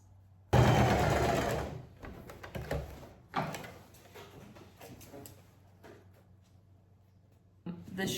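Sewing machine stitching vintage dress pieces in short bursts: a loud run of rapid stitching at the start, then quieter intermittent whirs and clicks as the fabric is handled, close by.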